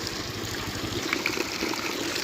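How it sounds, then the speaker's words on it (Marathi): Water gushes steadily from a hand pump flowing by itself with no one working the handle, a continuous close splashing rush that stays loud and even throughout. "हापसा न काही करता पाणी ऑटोमॅटिक हापशातून पाणी बाहेर पडतं"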